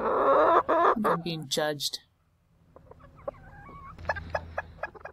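Backyard chickens cluck loudly and close by under a person talking, then a quieter run of short, repeated clucks follows alone after a brief pause.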